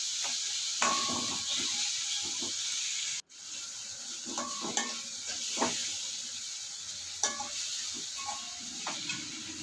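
Sliced onions with curry leaves and salt crackle in a pan for onion chammanthi, a soft hiss broken by scraping stirs and brief louder pops, with one abrupt silent break.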